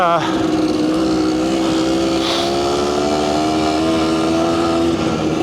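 A 1992 Kawasaki KDX200 two-stroke dirt bike climbs a steep, bumpy hill, its engine loud and close with a sustained buzzing drone that holds steady at high revs throughout. A voice speaks faintly under the engine noise.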